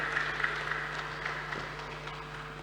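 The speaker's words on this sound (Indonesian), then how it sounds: "Boleh saya minta tepuk tangannya sekali lagi kepada Bapak dan Ibu yang hadir?" A seminar audience gives a round of applause, a soft, steady patter of many hands that stays fairly faint and distant throughout.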